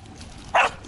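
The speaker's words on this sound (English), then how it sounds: "Oh man, these mangy dogs, man." A dog gives one short, sharp bark, fairly close, in the fishing village of La Pirraya on Bahía de Jiquilisco, El Salvador, with quiet outdoor ambience around it.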